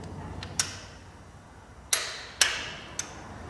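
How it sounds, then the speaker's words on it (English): A torque wrench on a bolt of a blown-up lawn mower engine gives four crisp metallic clicks, close and distinct, spaced irregularly over a quiet background. "This torque wrench may be slightly overkill for what I'm working on here."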